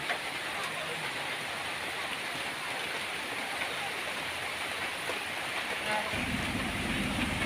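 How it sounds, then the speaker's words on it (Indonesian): Steady broadband hiss of rain falling throughout, constant and enveloping, with a deeper rumble joining near the end. "Malah dah turun hujan."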